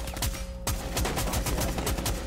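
Shotgun fire in the video game Rainbow Six Siege: a rapid run of sharp, punchy blasts, with a brief lull near the start, loud and close over the game's background ambience.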